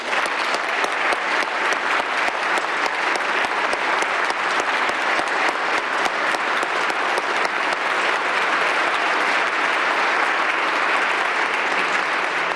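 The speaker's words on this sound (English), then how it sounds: "How about a round of applause for all our recipients?" Sustained applause from a ceremony audience honoring police award recipients, a dense steady wash of many hands clapping at full strength for the whole stretch with no voices over it.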